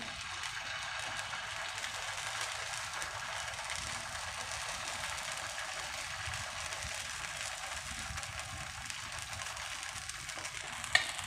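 Rice pav batter sizzles in a hot pan with a steady, even hiss that runs unbroken throughout, close and alone.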